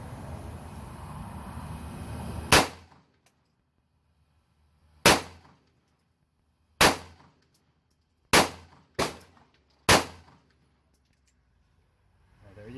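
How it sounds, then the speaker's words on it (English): Six sharp gunshots from an H&K USP Compact pistol crack at irregular intervals on a range, each decaying quickly into quiet, after a stretch of low background noise. "I'm going to shoot the H&K."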